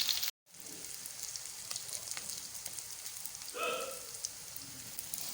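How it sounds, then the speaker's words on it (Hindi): Potato balls deep-fry in hot oil with a constant crackling sizzle like light rain, heard fairly close and steady throughout, with a brief dropout near the start. "इसी तरह हम लोगों ने इनको फ्राई करना है"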